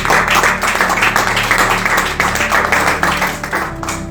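A church congregation breaks into loud, sustained applause for the Lord Jesus, a continuous wash of many hands clapping close by for a few seconds.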